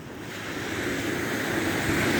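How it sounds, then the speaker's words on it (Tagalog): Sea waves wash continuously onto the shore of Jomalig Island in Quezon Province, a steady close roar of surf with wind noise and no voices. "naglalakad ako dito sa may tabi ng dagat"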